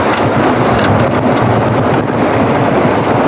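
Strong northeast wind at sea buffets the microphone aboard a boat, a loud, continuous roar of wind noise with a low engine-like rumble underneath.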